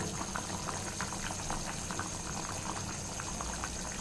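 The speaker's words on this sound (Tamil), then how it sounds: "நல்லா காய் கொதிக்குது" Steady bubbling of a pot of vegetables, including potatoes, at a rolling boil, a dense continuous simmer with small pops, heard close up with no voices.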